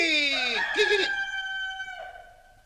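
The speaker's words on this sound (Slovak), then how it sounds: "že si všetky kohúto pobudil" Rooster crowing in a Slovak village setting, a single loud, drawn-out cock-a-doodle-doo with rising and falling harmonics, close and clear, ending in a fading tail.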